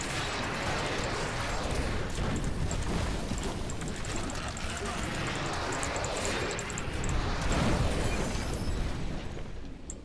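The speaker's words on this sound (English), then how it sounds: "That was a lot of explosions" A dense, continuous barrage of booming blasts and crackling bursts in the video game Diablo III fills the clip, loud and chaotic with little pause, swelling near the end.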